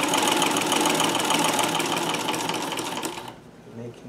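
A Davis vertical feed treadle sewing machine sewing pin tucks, giving a loud, continuous rapid mechanical clatter close up that slows and stops near the end.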